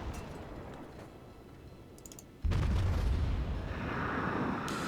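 Cruiser guns fire in World of Warships, a naval battle game: a sudden loud, deep boom lands midway and rolls into a sustained low rumble, following quieter ambient sea and battle noise.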